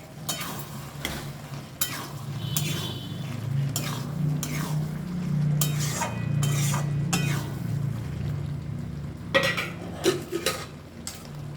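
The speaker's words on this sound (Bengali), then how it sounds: "তার আগে দিয়ে দেব ভেজে রাখা পনিরগুলো।" Pre-fried paneer cubes are added to a ghugni pan and stirred, with metal utensil scrapes and clinks against the pan over a steady low hum and a faint sizzle, close by.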